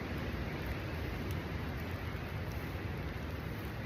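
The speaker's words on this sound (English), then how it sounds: "Can you hear the wind?" Windy, rainy outdoor weather with gusts up to 38 mph produces a steady, broad roar of wind and rain noise, continuous and fairly loud with no talk.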